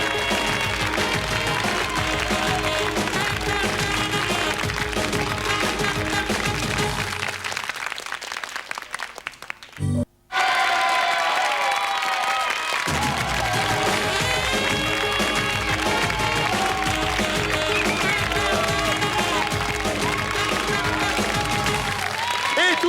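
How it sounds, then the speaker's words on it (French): A television studio audience claps and cheers on a French hidden-camera prank show, loud sustained applause that drops out briefly near the middle, then swells back up and continues strongly. "Et tous ces applaudissements pour le champion du monde, toute catégorie des surprises, Marcel Béliveau"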